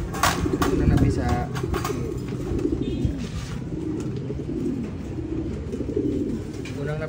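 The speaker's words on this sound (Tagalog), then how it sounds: "Unang napisa natin Taiwan bird. Ito yung magulang yan." Taiwan pigeons, a parent with a newly hatched chick, coo in soft low repeated phrases close by, with light rustling and people talking over them.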